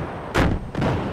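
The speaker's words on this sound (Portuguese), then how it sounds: "Nossa, tiro de bazuca." A bazooka shot fires in the Battlefield 4 video game during a competitive match: two loud, broad blasts about half a second apart with a booming thump.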